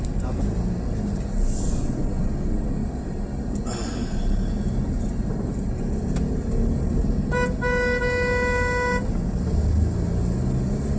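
Car horn on a road drive through the Philippines: a single harmonic honk lasting roughly a second and a half, sounding over a steady loud engine and road rumble, with people talking nearby.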